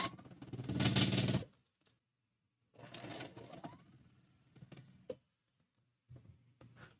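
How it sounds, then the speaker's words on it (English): A domestic sewing machine chain stitching quilt block pieces runs in several bursts, a long loud run first, then shorter runs separated by pauses, close and alone in a quiet room. "Take them to the sewing machine, line up my raw edges, scratch them together if they're not lining up nicely, and chain stitch all 3 of those."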